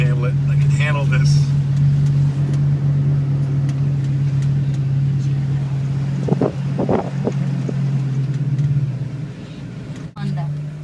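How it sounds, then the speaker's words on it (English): A 1971 Ford Mustang Fastback engine held against the brakes in a power brake, a loud, steady low rumble heard from inside the car that runs for about nine seconds before easing off, with people talking over it. "I'm teaching my wife how to power brake while she's wearing these shoes driving the car."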